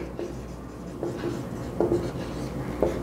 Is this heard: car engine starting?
no